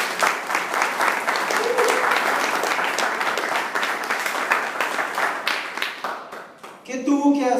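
A church congregation claps together in sustained, dense applause that stays loud for several seconds, then thins out as scattered claps and a voice come in at the end.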